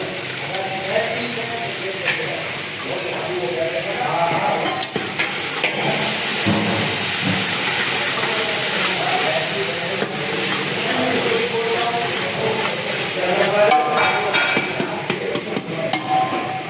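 Yogurt hitting a hot pan while cooking Sindhi beh, giving a steady loud sizzling hiss and steam that continues throughout with little change.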